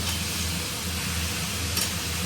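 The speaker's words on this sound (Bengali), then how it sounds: "একটু ভেজে নিই" Grated green papaya frying in a pan for a Bengali ghonto, giving a steady, close hiss of sizzling oil with no speech throughout.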